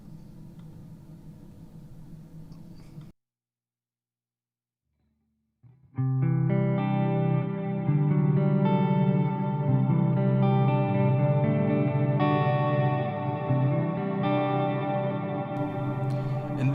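Hollowbody electric guitar played through effects pedals for a dirty, distorted tone, with a short burst of playing, a few seconds of silence, then sustained chords ringing with echo and chorus.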